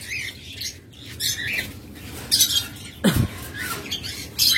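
A pair of caged cockatiels chirps in short, bright bursts spread across the moment, with soft rustling and flutters between the calls.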